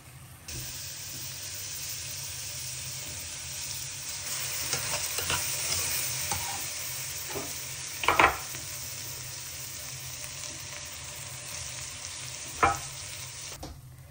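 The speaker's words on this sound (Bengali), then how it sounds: "এই যে রান্নাটা বসাই দিচ্ছি, পুরাটাই ঘি দিয়ে রান্না করব" Meat sizzles in ghee in a pot for biryani, a steady frying hiss throughout with a few sharp stirring scrapes and clinks close by, no talking.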